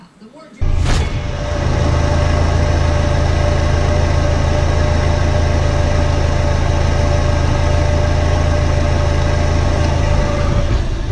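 A Toyota MR2 with an overheating problem starts its engine and runs steadily with a loud, low droning hum and constant tone, close up, holding level for about ten seconds.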